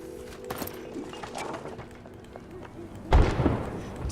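A single heavy explosion in the wartime survival video game This War of Mine bursts out near the end, loud and sudden, after a stretch of low rumbling ambience with scattered faint sounds.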